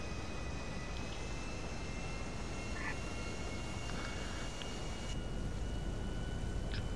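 An airplane in GTA V building up for takeoff, a steady loud roaring engine rumble with a broad hiss, holding constant throughout with a faint higher tone above it.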